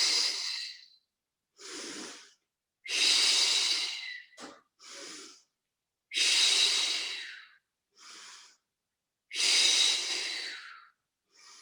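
Rhythmic breaths during a beginner Pilates leg-lift exercise, about eight distinct breathy exhales and inhales in a steady alternating pattern, close and clear with silent gaps between them and no talking.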